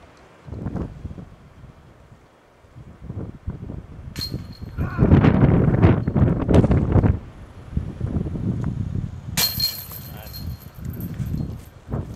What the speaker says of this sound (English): Wind.